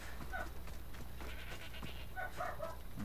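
Goat bleating in the video game Assassin's Creed Odyssey, several wavering bleats over a steady low ambient hum, moderately close, with no talking.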